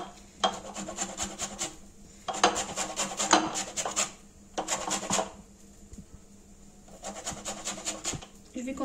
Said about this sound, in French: je vais râper zeste de citron